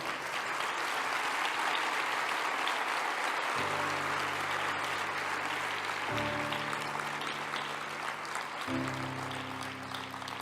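Strong, sustained applause from the audience fills the hall at the PILOT 2019 awards ceremony, a dense continuous clatter of clapping with low music chords entering partway through.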